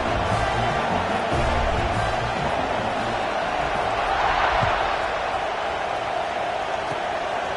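A stadium crowd cheers at a college football game in NCAA 25, a broad, loud, continuous roar that holds steady throughout.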